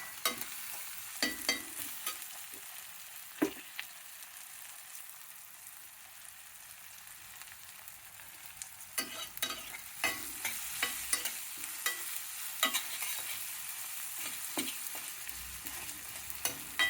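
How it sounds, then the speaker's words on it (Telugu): Tomato and cumin frying in a pan for sabudana upma, a quiet steady sizzle with intermittent sharp clinks and scrapes as the mixture is stirred. "ఒక టమాటా, జీలకర్ర అంతా వేసినానండి, వేగిపోయింది"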